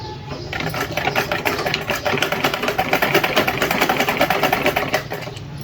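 A sewing machine stitches a seam in one continuous close-up run of fast, even mechanical whirring with a steady rhythmic clatter, alone and without voices.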